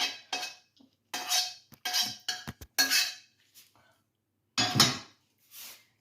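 A spoon scraping and clinking against a bowl while rice is stirred for meat-and-rice pirozhki filling, several short separate bursts of knocking and scraping with gaps of quiet.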